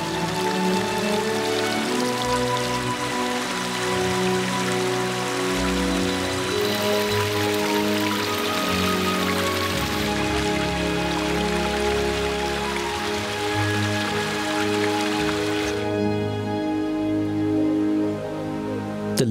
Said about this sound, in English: The streams fill with rainwater and bring a magical touch to the forest with numerous waterfalls.